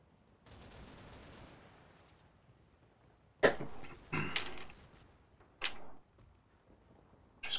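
Gunfire in the Combat Mission: Battle for Normandy video game as scouts come under fire: a low rumbling stretch, then several sharp, loud cracks in irregular bursts, each with a short echoing tail, no talk.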